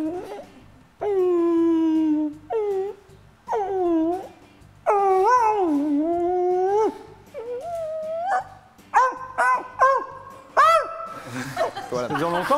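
A man imitating an animal somewhere between a dog and a monkey, giving a run of loud, close whimpering yelps and whines that break into chattering, laugh-like bursts toward the end.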